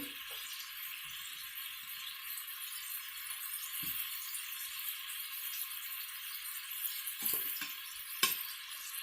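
Oktoberfest sausages browning in a Pampered Chef Quick Cooker give off a steady, faint, hissing sizzle, broken by a few small pops and rattles near the end, with no voices.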